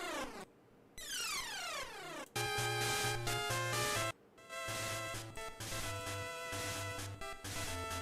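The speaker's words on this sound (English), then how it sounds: "this is your reminder that the Pokemon TCG, which came out on Game Boy Color, sounds like this" Pokemon Trading Card Game music from the Game Boy Color, a bright, slightly crunchy chiptune with a descending sweep at the start, then bouncy square-wave melody over a pulsing bass line, loud and continuous with no voices.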